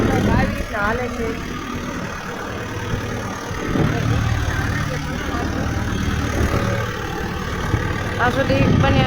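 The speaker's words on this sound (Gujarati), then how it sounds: "આવી રીતે કઈ ટ્રેક્ટર આપણું હાલે છે." A farm tractor engine runs steadily at idle or low revs throughout, a continuous mid-low drone with people talking over it for most of the stretch.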